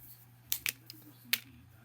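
Scissors snip through a piece of gilded foil for a mosaic frame, two quick close cuts followed by a third a moment later, in a quiet room.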